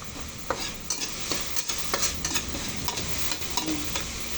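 Ground pork (giniling) sizzles in a pan as it is stirred, with repeated scraping strokes over a constant frying hiss, close and fairly loud.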